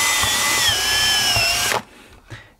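A power drill bores into the wooden edge of a VR box, whining loudly and close with rhythmic chunking pulses as the bit catches, then stops abruptly with a brief rattle after.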